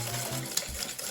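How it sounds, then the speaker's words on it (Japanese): Egg yolks are whisked with granulated sugar in a bowl, giving a continuous close whirring and swishing for about a second with no pauses. "そしてこちらをこのまま泡立てていきます。"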